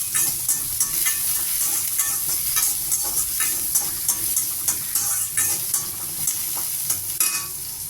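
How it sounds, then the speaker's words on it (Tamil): Ginger and about ten garlic cloves sautéing in hot oil for a pirandai thuvaiyal, giving a close, constant sizzle broken by regular scraping stirs of a spatula against the pan. "இஞ்சி பூண்டையும் நல்லா வதக்கணும்"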